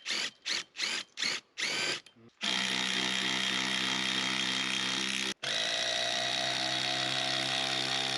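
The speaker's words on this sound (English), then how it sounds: "So these are the things I'm going to screw into them." A power drill whirs in several short bursts, then drives screws steadily into wooden stakes for a long stretch, pausing briefly before running again at close range.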